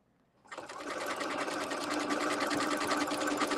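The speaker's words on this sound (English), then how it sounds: "I'm going to be stitching right on that line" A sewing machine stitches steadily along a marked line during a quilting session with circle and straight-line tools, starting after a brief quiet moment and then running loud and continuous, close up, with no talk.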